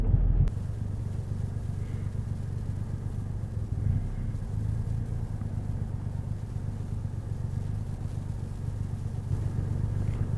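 A Triumph Rocket 3 R Black Limited Edition motorcycle engine rumbles steadily up close, a deep continuous drone with wind buffeting the microphone and no talking.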